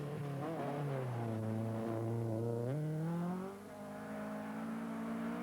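A 1982 Opel Ascona 400 rally car, driven by Jimmy McRae, idles loudly and then revs up as it sets off from the start line. Its engine note climbs, holds steady and then dips before settling into a sustained drone. No one speaks.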